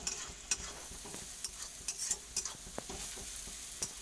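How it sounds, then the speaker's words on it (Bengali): Garlic frying in oil in a pan after onions, a faint low sizzle broken by scattered clicks and scrapes of a spoon stirring, no voices. "রসুনটাকে ওরকম ভালো করে লাল লাল ভেজে নেব।"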